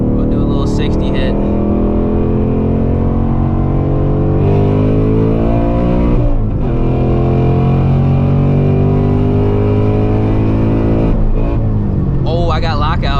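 A 2024 Ford Mustang GT accelerates hard to 60, its loud, close engine note climbing steadily through the gears with two brief dips at the shifts.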